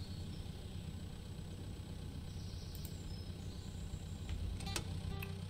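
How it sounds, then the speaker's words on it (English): Tractor engine in the Pure Farming 2018 farming game idling at a steady low rumble, even and continuous, with a few faint high clicks near the end. "I'm gonna send this tractor back over to the other area"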